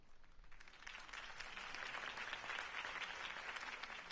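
Steady crowd applause and clapping in the video game Batman: The Telltale Series, fairly faint and distant, holding evenly throughout with no voices.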